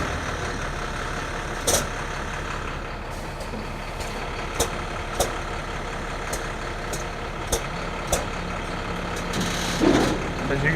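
A truck fitted for a snow plow and V-box runs at a steady idle with a constant low engine drone. Several sharp clicks and short metallic ticks sound over it, and near the end the rumble swells briefly.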